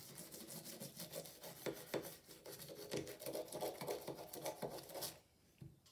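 A small brush scrubbing the slide of a Sig Sauer P365 pistol, steel parts against polymer: rapid, continuous rasping strokes, close and fairly loud, that stop abruptly near the end.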